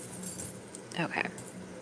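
Tarot charms jangle and clink inside a bag in a soft metallic shake, with a brighter rattle near the middle, heard faintly alongside quiet talking.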